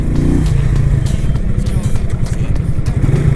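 An FKM Agimat 175 motorcycle on a test ride, its engine a loud, steady, close-up drone with a rapid clattering pulse that holds throughout, and a voice talking faintly underneath.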